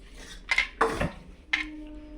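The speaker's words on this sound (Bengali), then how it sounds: "সব সবজিগুলোকে ভালো করে মিশিয়ে নিব" Chopped vegetables, chillies and coriander leaves being mixed in a bowl, giving a few close clinks and scrapes of a utensil against the dish, with quiet gaps between them.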